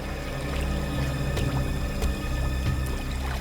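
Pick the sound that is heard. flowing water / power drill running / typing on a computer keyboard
flowing water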